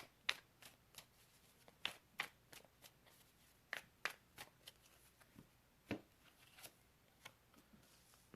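Tarot cards shuffled by hand for a reading, with a quiet, close series of irregular crisp slaps and riffles spaced through a soft room, no speech.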